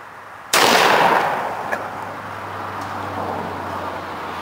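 A shotgun with a red dot scope fires a single close, sharp blast at a 40 yard target, followed by a long echoing decay, then a faint background hum.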